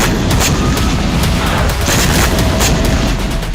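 Missile strike explosions in the Russia-Ukraine war come as a dense, loud barrage of overlapping booms and blasts rolling on without pause.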